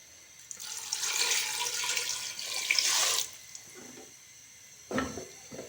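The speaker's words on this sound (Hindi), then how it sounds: "साथ ही हम इसमें पानी डाल देंगे।" Water pours steadily into a cooking pot holding chicken, onions and tomatoes for a desi chicken karahi, a bright splashing rush lasting about three seconds, then quiet with a short final splash.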